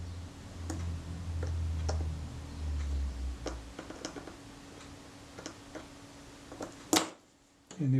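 The shutter blades of a Kodak Retina Reflex camera snap open and closed on the bench in a series of small, sharp, irregular clicks. A low hum fades early on, and a louder clack comes near the end.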